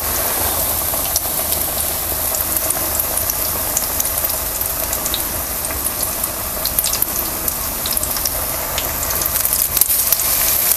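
Bread pakoda, slices coated in batter, frying in hot oil, a steady dense sizzle and crackle with scattered sharp pops, loud and close throughout, no voices.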